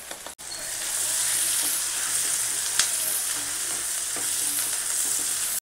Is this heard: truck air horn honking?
no